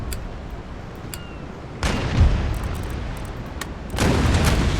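Naval cannon fire from warships in Empire: Total War, heard as deep booming rumbles: one heavy roll of blasts in the middle and another near the end over a continuous low battle din, with no talk.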